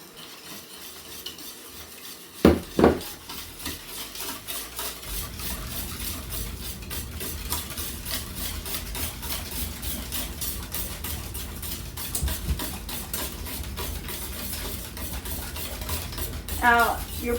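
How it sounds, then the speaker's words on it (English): A hand whisk stirs pumpkin pie filling in a bowl, producing a steady, rapid scraping and tapping rhythm that continues nearly unbroken, with a sharp clack of metal against the bowl early on. "Any type of whisk will do"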